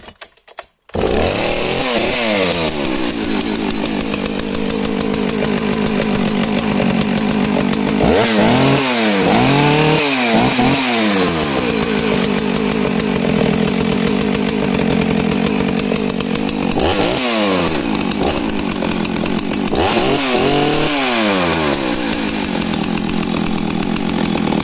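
Vintage 1970s chainsaws, a Husqvarna 162SE, Rancher 61 and Stihl 04, roar continuously through wood after a brief start, with repeated engine bogs and revs as each cut bites, loud and close.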